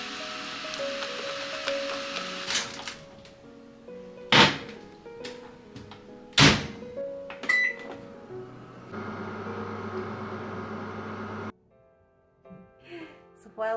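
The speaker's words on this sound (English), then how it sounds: "So while my mug is in the microwave" A microwave oven heating a mug: several sharp door and button clunks, then a steady mechanical hum for a few seconds, followed by quieter beeps and clicks.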